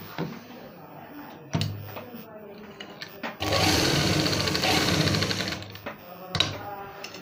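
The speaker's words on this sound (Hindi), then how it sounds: "इस तरह रख के हम गले की सिलाई करेंगे।" A sewing machine stitches the neck of a round-cut umbrella garment, running in one steady rapid burst of about three seconds between softer clicks and handling knocks of fabric and machine parts.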